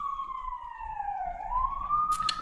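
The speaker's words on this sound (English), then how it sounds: "I'm sorry, guys, it's the ambulance. I'll let it pass for a second." A passing ambulance siren outside wails in a slow falling and rising sweep, fairly loud over low traffic rumble, with a brief sharp knock near the end.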